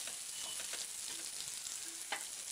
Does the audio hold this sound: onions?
yes